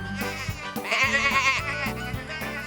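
A cartoon sheep from the children's show Tractor Tom gives a wavering, drawn-out bleat over light background music, with shorter sounds before and after it.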